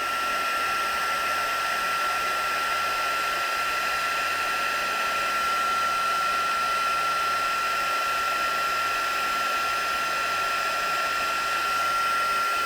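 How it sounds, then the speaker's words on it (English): A heat gun blows continuously as it warms up and heats the back of a craft piece, a steady, even hiss and motor whine with no breaks and no voices. "Now just get my heat gun warmed up a bit."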